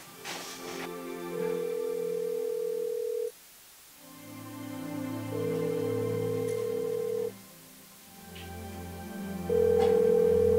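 A telephone rings in a home, its electronic ringtone repeating in three long cycles of layered tones, moderately loud and close, with no talk over it.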